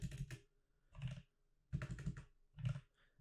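Bursts of typing on a computer keyboard while entering terminal commands for an Azure Service Fabric setup on Linux, four quick clusters of keystrokes separated by short pauses, close and fairly quiet.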